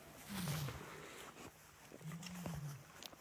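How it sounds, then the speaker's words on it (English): A lion at a wildcat sanctuary lets out two drawn-out, low moaning roar calls, one early and one later, carrying from a moderate distance over faint outdoor background sound. "listening to a lion sing in the background"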